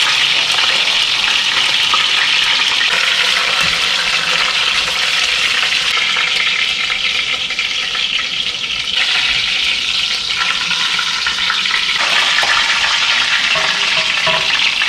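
A large pork butt browning in a Le Creuset Dutch oven, steady loud sizzling and frying that continues without a break, with no speech.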